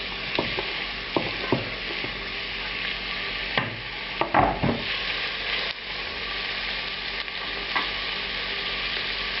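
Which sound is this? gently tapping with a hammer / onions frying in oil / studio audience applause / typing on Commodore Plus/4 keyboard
onions frying in oil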